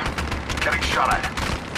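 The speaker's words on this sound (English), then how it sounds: "Getting shot at." Rapid gunfire from the mobile video game Apex Legends Mobile crackles in quick bursts, loud and close, mixed with game voice sounds during a battle royale match.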